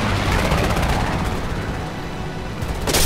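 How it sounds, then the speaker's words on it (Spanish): Rapid gunfire raining on the player's vehicle in War Thunder played in VR, a dense continuous rattle of shots and impacts close and loud, ending in a sharp burst. "me han dado tiros de todos lados"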